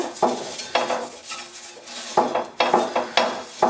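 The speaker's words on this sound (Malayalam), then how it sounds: "ഒരല്പം എണ്ണയൊന്ന് തൂത്ത് കൊടുക്കാം" Coconut coir scrubbing oil across a hot dosa pan for a Kerala thattukada-style dosa, heard as repeated short scraping, rubbing strokes against metal, close and fairly loud, with no one talking.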